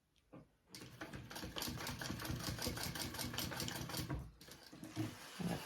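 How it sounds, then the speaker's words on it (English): A sewing machine runs steadily while top stitching fabric, starting after a brief pause and humming at an even rapid rhythm for several seconds before a short stop and restart near the end. "I'm gonna top stitch this first, and then I'll baste my 2 pieces together."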